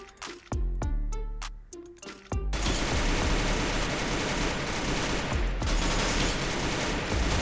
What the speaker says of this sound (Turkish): Birini vurdum. Diğerine vuracağım. Diğerini de vurdum.